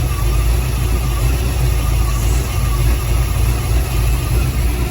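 A 1980s-style Chevrolet El Camino V8 engine idling roughly with mistimed ignition, a loud, steady low rumble with an uneven, shaky pulse that holds throughout without pauses.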